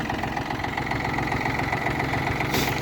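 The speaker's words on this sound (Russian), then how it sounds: "Двигатель слышно, как работает, очень мягко" Yanmar 23 hp diesel tractor engine idling smoothly and evenly, a steady close mechanical hum with no talk over it.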